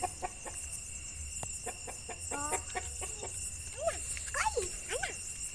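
A sick chicken's calls rise and fall in short bursts over a chirping insect backdrop, with a few clucks and faint talk in the distance.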